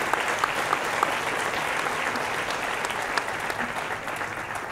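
Steady crowd applause rolls through an awards ceremony for local sports honorees in Bolaños de Calatrava, a dense, even wash of many hands at moderate volume with no break.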